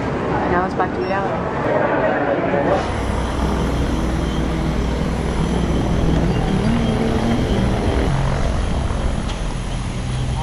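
A plane at an airport in Belize fills the air with a loud, steady engine roar and broadband rumble that continues throughout, with a brief change in texture near the start.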